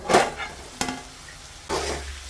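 Dried shrimp (sode) sizzling in a pan, heard as three short bursts of hiss and scraping as it is stirred, with a quiet gap between them.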